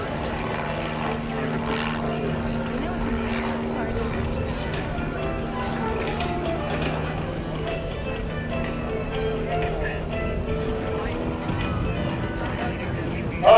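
A steady propeller engine of an aerobatic Pitts Special climbing at an airshow drones continuously at a distance, holding a sustained tone throughout with no talking.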